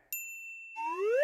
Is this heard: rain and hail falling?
no